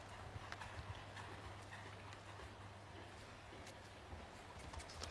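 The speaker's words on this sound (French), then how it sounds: "Il ne va pas plus vite que le rythme de son cheval." Show jumping horse moving around a course, with a soft, steady clip-clop of hooves at a distance under a constant low hum and faint crowd ambience.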